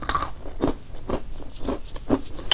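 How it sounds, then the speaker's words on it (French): Crunchy chocolate biscuit cake bitten and chewed up close, a series of about five or six crisp crunches at a steady chewing rhythm, quiet and without speech. "Le gâteau, il est croquant."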